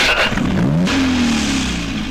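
A car engine cranks and catches, then revs with a rising, sweeping whine before settling into a steady idle, close and loud.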